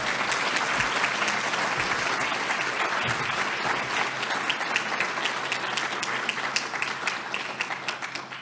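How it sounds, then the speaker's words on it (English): Sustained audience applause at a college food security summit, dense and steady clapping from a seated crowd that carries on without a break and fades slightly near the end. "Let's give her a round of applause."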